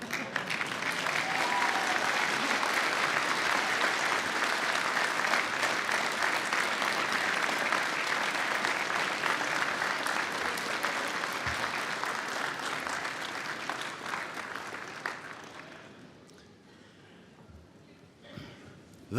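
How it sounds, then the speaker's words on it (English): Graduates at a conferring ceremony give their families a long, full round of applause that holds steady, then thins out and fades to scattered claps near the end. "give those families a well-deserved round of applause"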